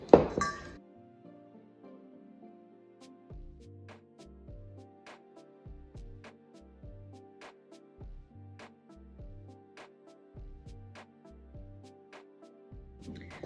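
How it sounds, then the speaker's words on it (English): A whisk clinks and taps rhythmically against a bowl of gluten-free chocolate cupcake batter, a steady series of light, close strokes, with no talk. "Let's get to whisking."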